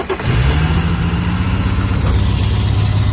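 A BMW M3 E36 fitted with a new intake fires up after a brief crank and settles into a loud, steady idle with a deep, continuous engine drone close by.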